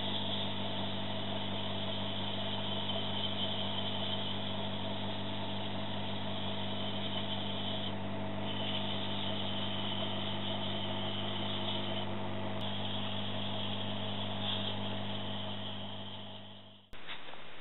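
A spinning wood lathe hums with a steady motor drone and faint rubbing as a vase is sanded with 400 grit, constant throughout before the machine winds down at the end.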